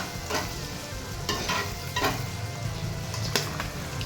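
Prawns tipped into a pan of frying masala for prawn thokku, then stirred, giving a steady close sizzle with scraping spoon strokes recurring every second or so, no talking.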